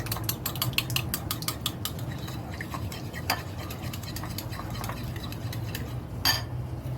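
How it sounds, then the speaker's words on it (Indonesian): Peanut and egg dough for kacang telur being stirred: quick, irregular clicks and taps of a utensil against a bowl over a low background hum, close and moderately loud. "Seperti ini, lanjut tak udek-udek."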